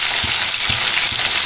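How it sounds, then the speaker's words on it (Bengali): Tilapia fish fries in hot oil, a loud, close, constant sizzle with a few soft low bumps as the pieces are moved. "তেলাপিয়া মাছ ভাজা হচ্ছে"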